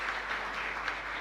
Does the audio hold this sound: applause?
yes